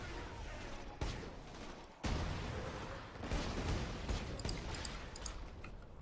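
Gunfire in the Borderlands 2 shooter, sharp distinct shots around 1 and 2 seconds followed by busier rattling fire and clinking game effects, fairly quiet overall.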